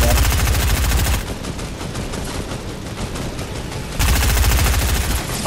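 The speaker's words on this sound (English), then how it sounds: "They're shooting at me." Video game gunfire in Fortnite, a sustained burst of rapid automatic shots, loud at the start and end with a slightly quieter stretch of continuous firing in between.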